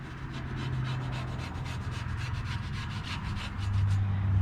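A rag rubbing hard back and forth over the oil pan sealing surface of a 2003-07 Honda 3.0L V6, a close, rapid, steady scrubbing rhythm with no talking.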